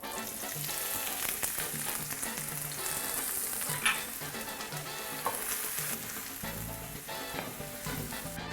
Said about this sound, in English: We have some onions over here and garlic that we are going to saute and start sauteing.